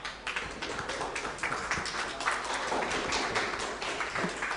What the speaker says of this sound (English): Give a big applause to Johan.